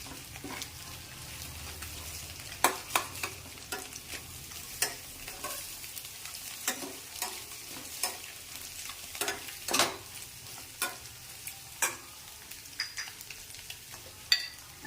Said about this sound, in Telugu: ఇప్పుడు ఇది మళ్ళీ ఒకసారి ఫ్రై చేసుకుని మసాలా అంతా ఇప్పుడు మొత్తం ఒకసారి తిప్పేసుకుందాం